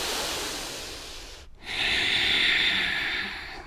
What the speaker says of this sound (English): 4 breaths in and out.